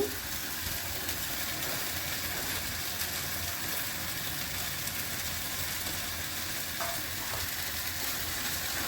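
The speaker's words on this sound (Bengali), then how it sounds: "ভাজা চিংড়ি মাছগুলো দিয়ে দিচ্ছি।" Fried prawns and taro leaves sizzle in a pan while being stirred, a steady loud hiss of frying throughout with faint scraping and no voices.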